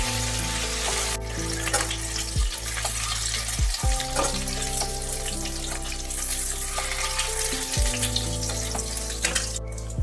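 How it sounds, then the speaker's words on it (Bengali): Slit boiled eggs fry in leftover oil in a kadai, a loud continuous sizzle and crackle close by, with a few brief clinks of a utensil against the pan. "সেই তেলের মধ্যে আমি দিয়ে দিচ্ছি একটু চিড়ে রাখা ডিমগুলো। অল্প একটু করে ভেজে নিতে হবে।"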